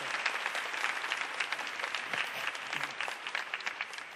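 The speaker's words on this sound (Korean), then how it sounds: "다시 한번 큰 박수 부탁드리겠습니다" Audience at a Korean masterclass event applauding steadily for a visiting television writer and producer, a dense, even wash of clapping heard at moderate distance without speech.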